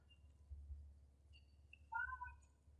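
A cat meows a few times, faint and somewhat distant, with short tonal cries near the start and a louder wavering meow toward the end over low background rumble.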